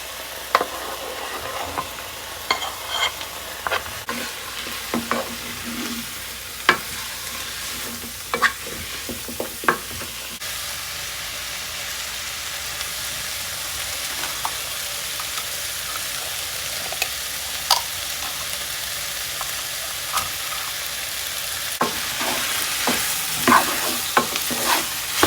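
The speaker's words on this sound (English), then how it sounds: "now we're gonna add the bacon back in there along with some garlic" Bacon and garlic fry in a pan inside a tiny home, a steady sizzle broken by frequent scraping knocks of a utensil stirring. The stirring grows busier toward the end, and no one speaks.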